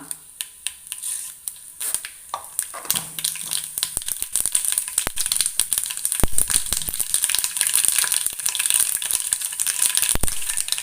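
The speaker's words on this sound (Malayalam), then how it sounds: "കടുക് ഇട്ട് കൊടുക്കാം." Mustard seeds spluttering in hot coconut oil and ghee, first as a few sharp separate pops, then thickening into a dense, steady crackle and sizzle that continues to the end.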